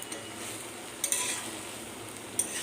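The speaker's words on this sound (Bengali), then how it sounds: "রাজমাটা আমি এখন কষিয়ে নিচ্ছি ভালো করে।" Rajma (kidney beans) stir-fried in a pan at home, a soft continuous sizzle with occasional light clinks of a spatula against the pan, close and fairly quiet.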